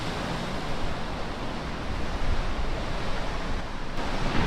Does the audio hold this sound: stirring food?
no